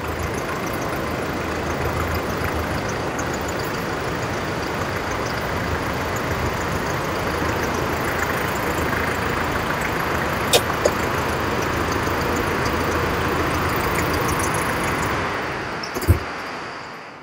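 A Mahindra Arjun Novo 60 hp tractor engine idles with a steady, even drone that holds at constant loudness throughout, with a couple of faint clicks and a short knock near the end.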